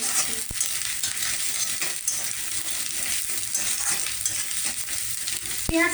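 Chopped onion, ginger and green chili fry in a pan with a steady, close crackling sizzle, broken by the occasional scrape of a stirring spoon and a sharp clink near the end; no one speaks.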